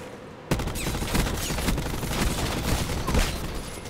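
ABR rifle fire in Call of Duty Black Ops 4 crackles in dense rapid bursts of close, loud gunshots that start abruptly and keep going for several seconds, with no talk over it.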